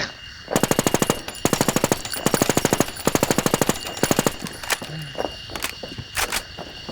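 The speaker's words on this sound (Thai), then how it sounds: "ปืนทาครับ ทายี่สิบหนึ่ง ขวัญใจทหารไทยแล้วนะปืนนี้" A TAR-21 rifle fires in a battle royale video game: several rapid bursts of automatic gunfire in close succession, loud and near, followed by a few scattered single shots and clicks.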